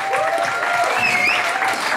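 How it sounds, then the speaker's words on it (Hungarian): A concert crowd at the A38 ship venue in Budapest applauds a band's brass section, with close, continuous clapping and a couple of thin whistles rising over it. "Egy nagy tapsot szeretnék kérni a fúvós szekciónak, Csiszár Péter tanár úrnak,"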